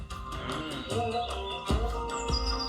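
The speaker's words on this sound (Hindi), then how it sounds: "इतना ज्यादा डेंस फॉरेस्ट है जो कि पूरा चिड़ियों की आवाज से गूंज रहा है" Small birds chirp and tweet in scattered bursts through a dense high-altitude mountain forest in Uttarakhand's Darma Valley, layered over a steady hum of other background noise.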